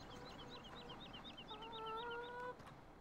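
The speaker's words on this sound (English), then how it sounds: "I can hear the chickens." Chickens cluck in a steady, repeating pattern of short, chirpy calls in Farming Simulator 17, fairly close and continuous over a soft background hum, with a few sustained tones joining midway.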